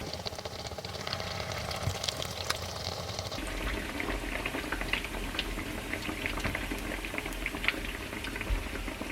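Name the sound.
Caribbean johnny cakes frying in oil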